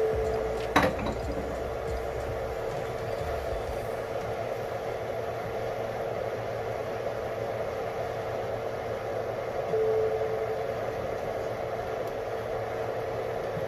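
Lemon shrimp and scallop sauce simmering in a pan, a steady soft bubbling hiss that runs unbroken throughout with a brief clink near the start and no talk.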